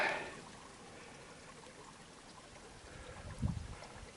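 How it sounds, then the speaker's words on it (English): A small, clear winter stream runs over a sandy bottom edged with ice, giving a faint, steady trickling murmur with a brief louder splash or gurgle near the end, heard outdoors with no talking. "Nice little flowing stream. Sandy bottom, clear water."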